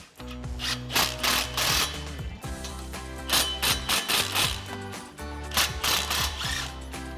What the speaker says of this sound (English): take a 14mm swivel socket going back and forth to tighten it